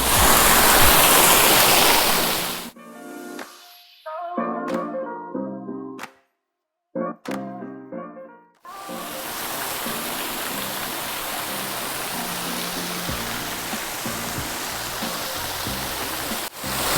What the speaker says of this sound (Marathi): आपण बघू शकतो हा धबधबा